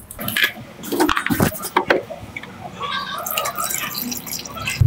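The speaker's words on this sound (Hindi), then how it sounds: "चलिए हम इसमें और पानी डालते हैं" Water is poured into the cell of a vehicle battery, giving a close, uneven run of drips, gurgles and liquid splashes that rise and fall over several seconds, with some background noise.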